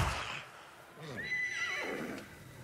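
A horse whinnies in a video game, a short rising-and-falling neigh heard under a man's ongoing chatter with faint background game sounds.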